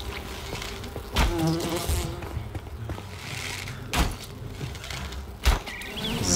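Buzzing of individual bees in the video game Enshrouded, a steady insect drone under game ambience, punctuated by three short thuds.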